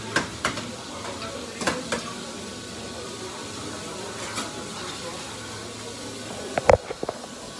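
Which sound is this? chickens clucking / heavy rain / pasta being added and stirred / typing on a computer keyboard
pasta being added and stirred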